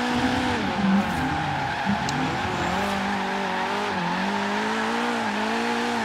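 A car drifting in Forza Horizon 3 during a tandem session, with a continuous loud tire squeal over a revving engine whose pitch wavers throughout.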